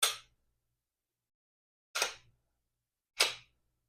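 A firearm's trigger being pulled to cycle the firing pin, three short sharp clicks spread over a few seconds, close and isolated in quiet with no voices.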